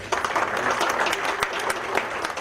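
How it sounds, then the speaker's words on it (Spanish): Audience applause at a historical gathering in San Cristóbal, a sustained wash of clapping from a seated crowd, even and fairly close, with a few sharper individual claps standing out. "con el aplauso de ustedes."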